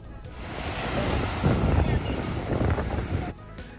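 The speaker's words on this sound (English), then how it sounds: "White Beach though, the waves here are stronger." Strong ocean surf rolls onto a Boracay island beach shore with steady wind buffeting the microphone, a continuous loud wash of breaking waves that swells and ebbs for several seconds before dropping off abruptly near the end.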